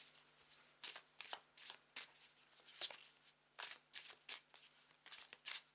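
A tarot card deck being shuffled by hand: a quiet series of crisp riffling bursts at uneven intervals, close and alone, with a low steady hum beneath.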